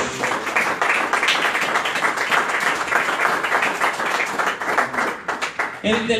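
A church congregation clapping hands as an offering of praise, a fast, dense patter of many hands that thins and breaks off near the end, with voices underneath.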